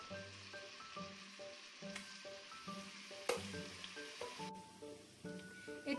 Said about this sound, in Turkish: Süzülmekte olan etlerimizi mühürlemek için tavama alıyorum.